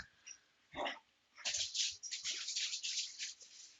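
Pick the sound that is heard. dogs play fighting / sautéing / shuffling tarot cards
dogs play fighting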